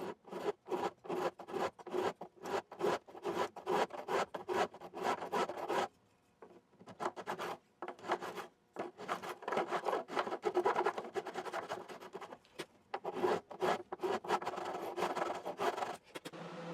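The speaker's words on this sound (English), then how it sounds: "You can hear the file go silent when you've reached your destination." A metal file dresses new frets on a Martin D-35 acoustic guitar, giving rapid rhythmic rasping strokes in bursts, close and dry, with a brief quieter pause midway before the scraping resumes.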